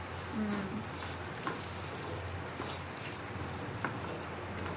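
Potato pieces frying in oil with a lightly salted, steady low sizzle and faint crackle, quiet and continuous throughout with no talking.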